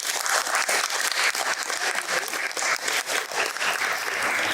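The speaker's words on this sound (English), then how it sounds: "Round of applause for Team 1." Close, dense applause from a school audience after a team presentation, steady and loud for the whole few seconds.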